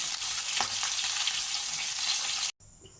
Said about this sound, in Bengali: আর একদিক ভালো করে ভেজে ভাজা হয়ে মাথাগুলো ভেজে তারপরে এটা পাত্রে তুলে নেব।